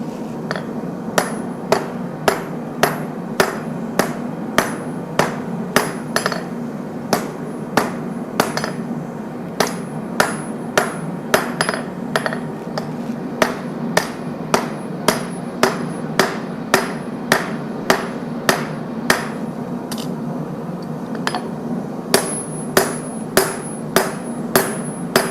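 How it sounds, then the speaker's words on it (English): Hammer forging a knife tang on an anvil: a long steady run of sharp, ringing metallic strikes at a regular brisk rhythm, close and loud, with no talk. "So I'm just putting in my tang right now, forging out that shape."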